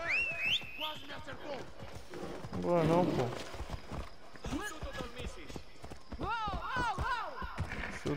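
Horse hooves clip-clopping in Assassin's Creed Odyssey, rhythmic thuds under someone talking in Portuguese, with game music and a brief whinny-like burst partway through.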